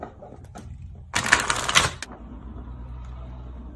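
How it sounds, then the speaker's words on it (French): Tarot cards being shuffled: a short, dense burst of riffling and flapping card noise lasting about a second, close to the microphone, set against a quiet room. "On va rajouter des cartes."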